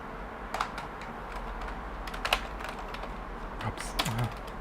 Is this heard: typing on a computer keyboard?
yes